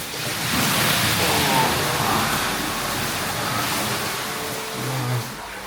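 A mountain river runs steadily beside an open-air hot spring bath at a remote lamp-lit inn deep in the Gifu mountains, a continuous broadband rush of flowing water with no break and no nearby voices.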